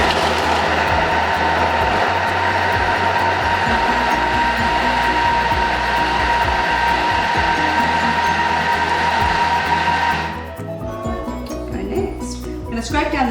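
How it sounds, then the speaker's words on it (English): A Thermomix chops vegetables for stock paste at speed 6, giving a loud, steady high-pitched whir with rattling pieces for about ten seconds before the blades stop abruptly and it winds down. "Next, we're going to chop this for 10 seconds on speed 6."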